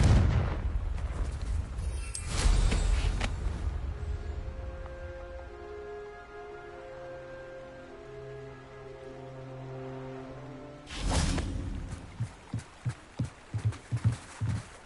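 Two loud Confringo fire-spell explosions from Hogwarts Legacy, one at the start and one later, each a broad rumbling blast; a sustained hum sits between them and rhythmic thumps follow the second.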